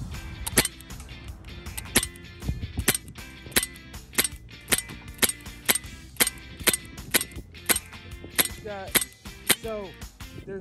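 A Tactical Force blowback airsoft pistol fires BBs in a steady series of sharp, loud cracks, each with a metallic slide clack, about one or two per second over a long stretch with a brief pause near the end.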